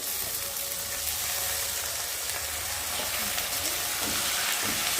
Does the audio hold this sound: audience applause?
no